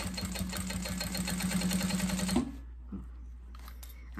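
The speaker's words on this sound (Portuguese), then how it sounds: "Venho costurando, certo?" A sewing machine stitches an Easter gift bag with a fast, even mechanical whir. It runs steadily for a couple of seconds, then stops abruptly, leaving soft handling noises.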